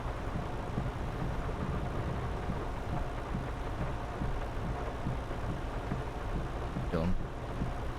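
Heavy rain pours in Farming Simulator 22 as a steady, dense hiss with low thunder-like rumbling underneath. A short voice cuts in near the end.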